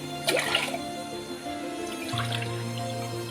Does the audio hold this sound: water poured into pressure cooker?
yes